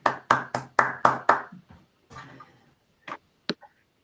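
A few claps after a quantum computing research talk: six or seven sharp, close slaps in quick succession that trail off into softer scattered claps and isolated taps, with no voices.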